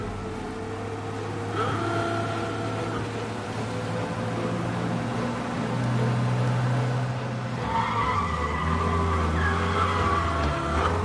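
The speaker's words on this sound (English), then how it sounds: "We lose them by driving real fast and getting clear of them." A car engine revs high and steady as it drives fast in the video game Mafia: Definitive Edition, a continuous close roar with shifting pitch, rising tire noise and swelling intensity toward the end, with no talk.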